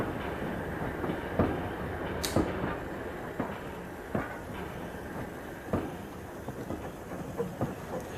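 A model LBSCR locomotive rumbles steadily along with repeated clicking rail joints, plus a brief high hiss near the start, close and moderately loud.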